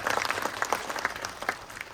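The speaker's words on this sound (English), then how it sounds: "Give a round of applause for her." A small audience claps together at a student astronomy event in a university planetarium. The applause is brisk, close and moderately loud, with distinct claps over a short span.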